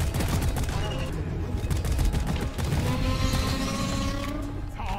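Dense, rapid automatic gunfire rattles almost without pause in the co-op video game Deep Rock Galactic, loud and close, with mechanical creaks and voices underneath.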